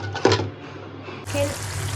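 Chickpeas frying in a pan for Bangladeshi iftar dishes, a steady close sizzle with stirring scrapes that swell louder in the second half.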